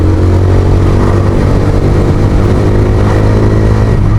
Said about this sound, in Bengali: এই বাইকের আওয়াজে কেমন যেন একটা ক্লাসিকের মতো থপথপ একটা আওয়াজ পাওয়া যায়